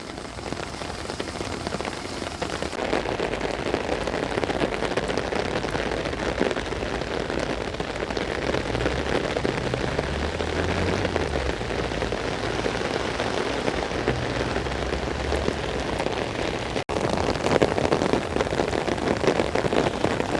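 Heavy rain pours steadily outdoors, a dense, even hiss of drops on surfaces with running water beneath, continuous and fairly close for the whole stretch.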